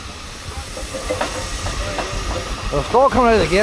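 Steam hissing from vintage steam traction engines firing up in a yard at a road run in Omagh, a steady broad wash of hiss under crowd noise with nearby talk, and tonal whistle-like chirps toward the end.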